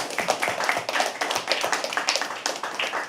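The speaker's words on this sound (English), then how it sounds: "Can we please have an applause for everyone?" Audience at a live poetry open mic claps in a loose, moderately loud burst of scattered individual hand claps, fairly close and continuous for about three seconds with no talk over it.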